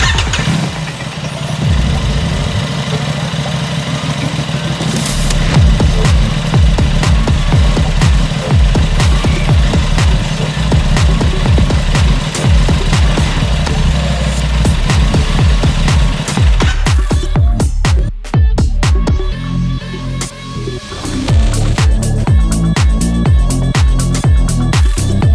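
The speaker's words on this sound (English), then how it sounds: "Start it up so that the fuel pump mixes the" An Aprilia RS660 motorcycle engine starts and settles into a steady, loud idle at close range, its rapid firing pulses running continuously, with a brief dip and some clatter near the end.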